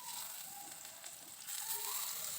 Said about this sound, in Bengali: তেল গরম হয়ে যাওয়ার পর এবার বেগুনগুলোকে ভেজে নেব।